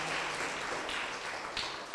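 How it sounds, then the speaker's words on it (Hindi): A church congregation at an Easter Sunday service clapping for two members' birthdays, a short burst of dense, steady applause with a few sharper claps standing out toward the end. "क्यों ना हम लोग उसको ताली देते हैं"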